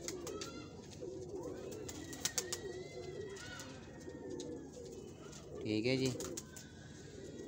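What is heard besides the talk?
pigeon cooing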